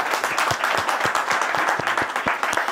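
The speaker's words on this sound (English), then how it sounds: "I think that in itself deserves a round of applause." A live audience breaks into sustained applause at a business awards gathering, dense steady clapping with a few sharper individual claps standing out, fairly close and loud with no talk over it.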